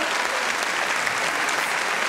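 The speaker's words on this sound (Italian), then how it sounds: "Allora ancora un applauso a lei." Steady, continuous applause from an audience, many hands clapping at once with no pauses or voices standing out.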